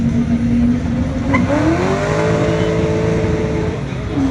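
An American car, one electric and one petrol in the pairing, accelerates hard at a drag race, engine tone climbing steadily in pitch, loud and close, with a broad roar of crowd and track noise underneath.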